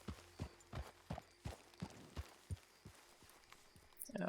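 Horse hooves in the video game Red Dead Online, a regular clip-clop of hoofbeats at a walking pace, fairly close, with a brief brighter burst of sound at the very end.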